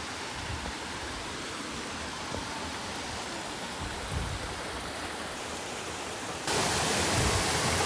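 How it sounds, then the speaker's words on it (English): Water from a remote wilderness waterfall rushes in a steady, broadband hiss, continuous and fairly close, with no voices, swelling louder for its last second. "This waterfall's gonna be running."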